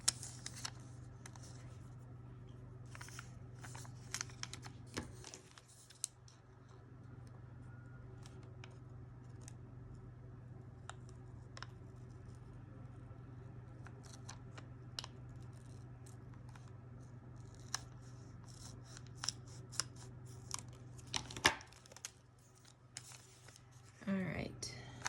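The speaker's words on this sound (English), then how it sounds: "And I want to tear some of this." Paper being torn by hand for a junk journal, a run of short crisp rips and rustles spread through the stretch over a steady low hum, close and fairly quiet.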